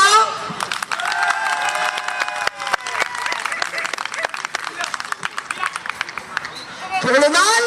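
Crowd applause and scattered cheering rise for a female dog at a regional dog show on Réunion, dense clapping mixed with voices and whoops, fairly loud and sustained.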